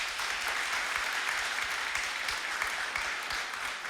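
An audience at a thank-you ceremony held in a government cabinet hall keeps applauding, a continuous, fairly soft patter of many hands heard from some distance.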